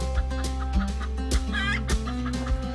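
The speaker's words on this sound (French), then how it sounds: "Et il y a souvent des poules sur ta terrasse?" Chickens clucking on a farm terrace, a steady run of close, busy clucks and short calls from several hens.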